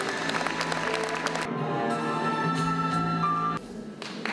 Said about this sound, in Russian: Ваши аплодисменты заслуженному профессору нашей республики.